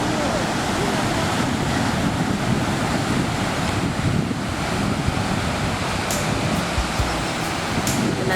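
Surf and steady wind roll in at Bathsheba beach on the Atlantic coast of Barbados, a loud, continuous wash of breaking waves with wind buffeting the microphone throughout and a couple of faint knocks near the end.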